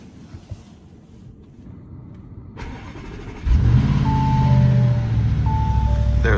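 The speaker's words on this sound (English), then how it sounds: "give a little start up to the Bentley, right? Listen to that good old 4-liter V8" A Bentley with a 4-liter V8 cranks and fires up loudly after a quiet stretch, then settles into a steady, deep idle close by, with a few faint chimes over the rumble.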